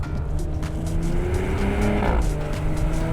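A 2021 Porsche Cayenne S Coupe engine revs up loudly and steadily, its pitch climbing, dropping briefly at an automatic gear change, then climbing again, heard up close with no voices.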